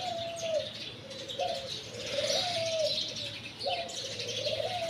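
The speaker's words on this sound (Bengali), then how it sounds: "সকালে এরকম পাখির কিচিরমিচির কার ভালো লাগে এরকম শব্দগুলো?" Birds chirp and call steadily in the early morning before sunrise, repeated sliding whistled notes mixed with softer coos, fairly close and continuous with no talking.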